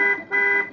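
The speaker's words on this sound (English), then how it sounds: "and the horn." Electronic horn of a Tamiya F-350 High Lift RC 4x4 truck played through an MFC-02 sound module: two short, loud, close honks in quick succession, with no talk.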